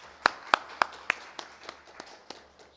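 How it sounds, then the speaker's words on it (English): About ten evenly spaced claps ring out at a panel session for clean energy and women entrepreneurs, sharp at first and fading quickly. The sparse clapping sounds like only a few people. "a round of applause for all the panelists for today."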